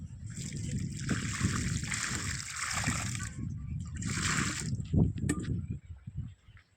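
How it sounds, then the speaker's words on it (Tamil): Water sprinkled over freshly planted sweet potato tubers in an earthen pot: a continuous splashing, pattering spray with trickling, broken by brief pauses, then tapering off at the end. "அடுத்தபடியாக தண்ணீர் தெளித்துக்கலாம் நண்பர்களே"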